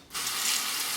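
A faucet runs steadily to rinse a safety razor during a wet shave, a close, continuous hiss of flowing water starting after a brief quiet moment and holding even to the end.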